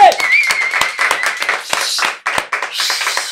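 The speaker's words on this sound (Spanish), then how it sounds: "Quiero que despidamos con un fuerte aplauso al Meque." A small group claps in a podcast studio, sharp uneven hand claps ringing out close and loud, mixed with cheering voices and a quick whistle.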